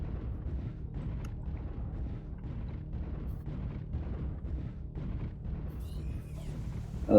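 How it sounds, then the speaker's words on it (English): A video game airstrike lands with a sequence of deep, rumbling booms, moderately loud and continuous across several seconds, with a sharper hit at the very end. "Airstrike online."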